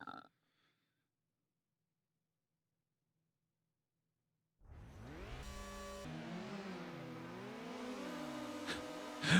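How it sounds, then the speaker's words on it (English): High-pitched racing car engine in a video game at the start of an event, a brief blip followed by silence, then a whining engine that rises and wavers steadily and grows louder toward the end. "high-pitched engine noises that you get when you start an event"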